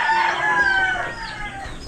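A rooster crows loudly and close by, one long drawn-out call with faint clucking around it.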